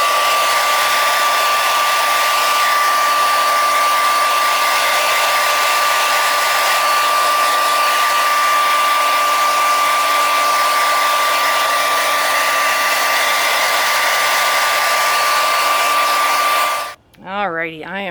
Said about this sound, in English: Now I will carefully get it with a hairdryer.